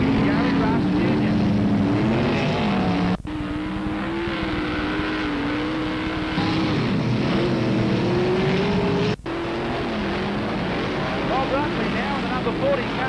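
Sprint cars racing at night on the Parramatta City Raceway dirt track, engines droning and rising and falling in a continuous roar, with a commentator talking over them throughout.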